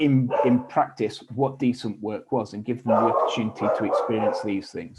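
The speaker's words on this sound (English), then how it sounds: "apologies for the dog in the background" A small dog yips and barks in the background of a remote talk, sharp and intermittent behind a man's continuous speech.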